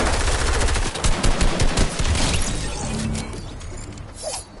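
Rapid gunfire bursts in a Fortnite match, a sniper shot among dense loud shooting with clattering mechanical noise, fading toward the end.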